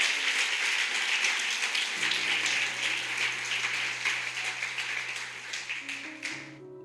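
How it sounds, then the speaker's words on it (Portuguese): A church congregation claps together in dense, steady applause that swells at first and then thins out before cutting off, loud and close, with no voices over it. "Você pode aplaudir o nome do Senhor."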